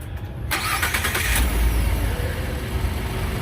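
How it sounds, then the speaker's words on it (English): A Ford F150 4x4 pickup truck starts up close by, with a brief starter crank that catches into a running engine and then settles into a steady idle. "So go ahead and start the truck up."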